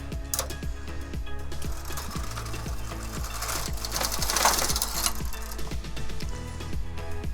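A knitting machine carriage pushed across the needles while knitting chunky-yarn socks, giving a close, continuous rattling clatter of ticking mechanical clicks that swells briefly midway, with no speech.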